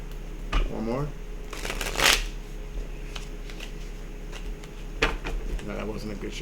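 Tarot cards are shuffled in quick riffling bursts with sharp slaps and soft rustling between them, close up over a steady low hum.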